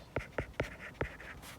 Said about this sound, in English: So before I even write that down